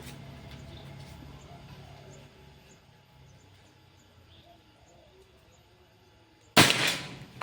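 A single sharp air rifle shot cracks near the end after quiet outdoor ambience with faint bird sounds.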